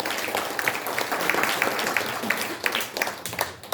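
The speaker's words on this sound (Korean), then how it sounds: "감사와 격려의 박수 부탁드립니다" An audience at a Korean launch ceremony applauding in thanks and encouragement, a steady wash of many hands clapping at moderate loudness, with a voice faintly present underneath.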